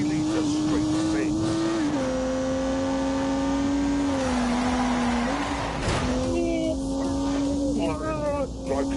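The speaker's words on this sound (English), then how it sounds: "unleashed 365 rampaging horsepower from the turbocharged 3-litre straight six" A turbocharged 3-litre straight-six engine pulls hard under acceleration, its steady drone rising and shifting in pitch with gear changes, loud and close, with a voice talking over it.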